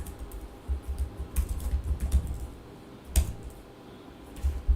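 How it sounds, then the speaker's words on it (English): Typing on a computer keyboard while entering a Python Django manage.py command, a close run of quick key clicks with a few louder isolated taps and brief pauses. "after I just type python manage.py"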